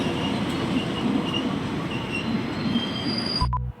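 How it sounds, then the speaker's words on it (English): A train rolls past nearby with a continuous rumbling clatter of wheels on rails and faint high squeals, steady and fairly loud, before cutting off abruptly at the end. "Well, what's that one now? There's another one."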